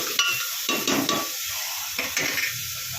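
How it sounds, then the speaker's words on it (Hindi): Onions frying in a pan for a home-style Sindhi dish while being stirred, a steady sizzle broken by several scraping strokes of the spoon against the pan, close and clear with no talking. "हल्का सा 2 मिनट हमको प्याज को पकाना है।"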